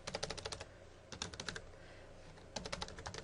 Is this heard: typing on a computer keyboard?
yes